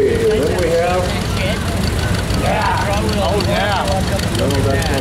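A John Deere M tractor fitted with a cultivator rumbles past in a vintage tractor parade at a steam and gas show, its low engine chugging beneath someone talking loudly over a public address system.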